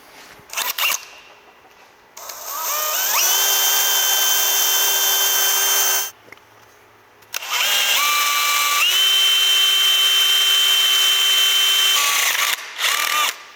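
A power drill with a 7/32 bit drills a metal pin in two long sustained bursts, its whine steady and close, separated by a short pause with a brief clunk.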